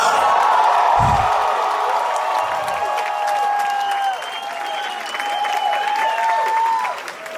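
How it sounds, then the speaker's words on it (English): Large crowd of about 500 people applauding, cheering and shouting in unison, a loud sustained wash of clapping and voices with rising whoops throughout. "The crowd, there's 500 people going, Rudy!"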